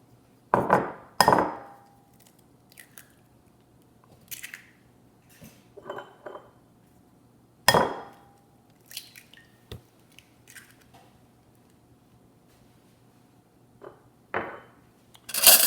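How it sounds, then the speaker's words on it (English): A fork clinks and taps against a bowl as a couple of eggs are lightly beaten, in scattered irregular strokes with quiet gaps between them, close and fairly crisp. "I'll just tip it a little bit and lightly beat these eggs."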